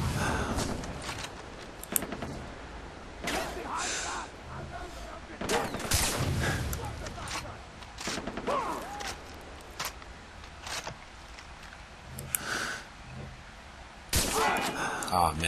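Gunfire in the video game Far Cry 3, shots aimed at enemies and a sniper, bursts of loud reports scattered throughout with brief gaps, under intermittent talk.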